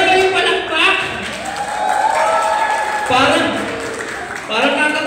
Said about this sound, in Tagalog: Yan na ba yung palakpak?